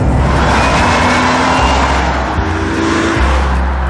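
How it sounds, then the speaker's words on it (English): Jaguar XJ6 with a V6 engine accelerating hard on the road, a loud, close, continuous engine roar with steady rising tone and tyre-road rumble, no voices over it. "You just have to press the pedal a little bit harder. And when you do, this V6 engine, it sings."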